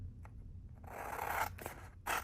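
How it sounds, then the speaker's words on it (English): Scissors snip and slide through a sheet of double tack mounting film, a few short crisp cuts followed by a longer scraping cut, close and fairly quiet with no talking. "I'm gonna use my double tack mounting film and cut this exactly to size"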